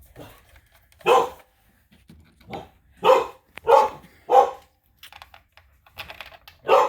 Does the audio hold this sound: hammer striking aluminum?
no